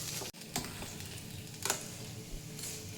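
Spoon stirring spices, garam masala, cumin masala and turmeric, into vada pav filling in a pan, with soft scraping and a few sharp ticks against the pan over a faint sizzle.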